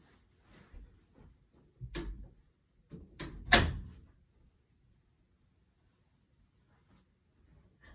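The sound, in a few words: door being closed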